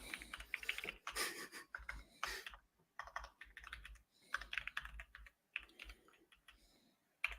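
Close, quiet typing on a computer keyboard comes in quick irregular bursts of key clicks with short pauses between runs, and no talk over it.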